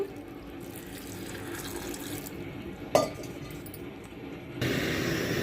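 Running water from a tap splashes steadily into a pan, with a sharp clink partway through and a louder, fuller gush of water toward the end.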